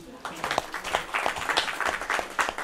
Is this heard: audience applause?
yes